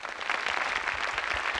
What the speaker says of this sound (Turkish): Lütfen bir de babama alkışlayın bence.